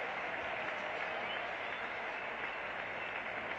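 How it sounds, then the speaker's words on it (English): Cricket crowd applauding after a wicket taken by Chris Old in a spell of three wickets in four balls: steady, dense clapping from a large stadium crowd, sustained at an even level and heard somewhat distantly throughout. "And listen to that applause."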